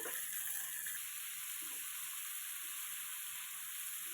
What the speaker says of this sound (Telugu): ఆనియన్స్ ఫ్రై అయ్యాయి ఇప్పుడు మనం చికెన్ వేసుకుందామండి